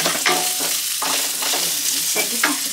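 Onions sautéing in a pan while being stirred for a Filipino ginataang hipon, with a steady sizzle broken by several scraping stirs spaced about half a second to a second apart, close and fairly loud.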